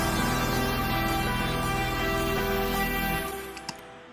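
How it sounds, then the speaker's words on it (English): A Steinway piano layered with a partly hidden Bösendorfer sits inside a full song mix in Logic, a steady dense passage that fades and thins toward the end. "See if you can hear the piano."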